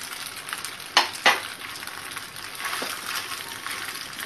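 White sauce being stirred into pasta in a pan: soft continuous sizzling and wet stirring, with a couple of sharp scraping clatters of the spoon against the pan, no speech.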